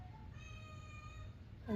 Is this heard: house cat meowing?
yes